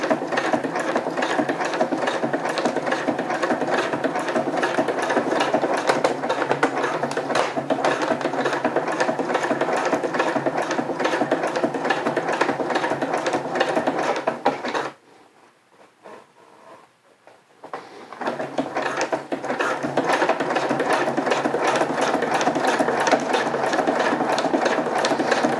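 Sewing machine stitching fabric for rain overmitts, a loud, rapid and continuous mechanical chatter that runs for about fifteen seconds, stops briefly for a quiet pause, then resumes at the same steady pace.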